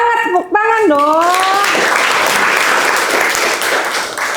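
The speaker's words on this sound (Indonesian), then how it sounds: "Tepuk tangan dong." Students clapping together in a classroom, a broad steady burst of applause that follows a short voiced sound at the start and holds loud and dense to the end.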